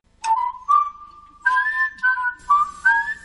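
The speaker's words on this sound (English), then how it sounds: "Yeah, I'm whistling at you." A person whistles a short, bright melody of several sustained notes, clear and close, with brief pauses between phrases and no talking.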